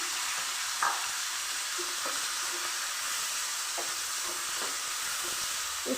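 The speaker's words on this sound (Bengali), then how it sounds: "এবার গরম তেলের মধ্যে আমি মাছগুলোকে দিয়ে দিচ্ছি" Tangra fish sizzling as they go into hot oil in a wok, a steady loud hiss with scattered crackles and light scraping taps throughout, no talking.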